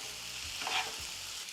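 Vegetables frying in a pan as pesto goes in, a soft steady sizzle with a brief louder hiss and stir near the middle, close and fairly quiet.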